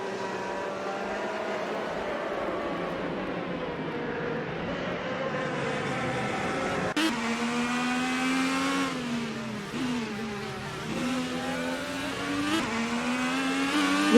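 IndyCar race cars in a racing video game, a continuous high engine whine with shifting pitch as cars pass and change gear, steady and alone without talk.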